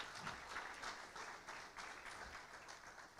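Congregation applause in a church service, a steady wash of many hands clapping at moderate level across a few seconds, with no talk over it.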